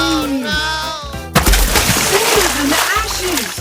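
Cartoon diesel engine from Thomas & Friends plunging off a broken bridge into a river: a loud, sudden splash and sloshing water that bursts in after an animated voice cries out, with more voices over the churning aftermath.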